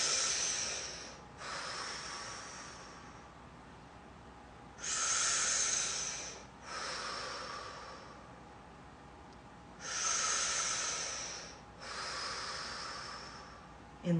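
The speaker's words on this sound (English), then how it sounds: "And then I'm going to breathe in." Slow, deep inhalations drawn in through the nose during a calming organ-reset exercise, three long airy breaths spaced evenly apart, each followed by a softer exhale, close and intimate in a quiet room.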